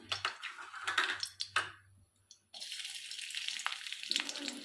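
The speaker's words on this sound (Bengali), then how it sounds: "কড়ার মধ্যে আমি সর্ষের তেল দিলাম দেখুন তেলটার মধ্যে আমি রসুন দিয়ে দিলাম" Garlic dropped into hot mustard oil in a kadai sizzles and crackles, with scattered clinks early on, then a brief hush before a steady loud frying hiss sets in.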